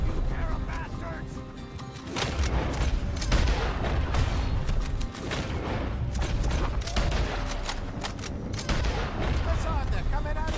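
Gunfight in Red Dead Redemption 2, with repeated loud gunshots cracking in irregular volleys, some heavy booms among them, while characters talk over the shooting.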